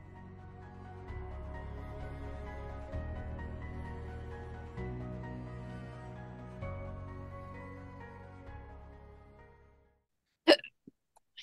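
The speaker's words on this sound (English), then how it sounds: "I hiccuped. I didn't burp." A single sharp hiccup from a person right after a long stretch of steady music, followed by a couple of faint after-sounds in near silence.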